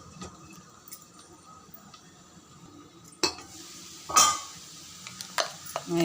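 A pot of garlic curry with a lid, heard first as a quiet low simmer, then a sudden metallic clank as the lid is lifted, followed by scraping stirs and clinks of a spoon against the pot.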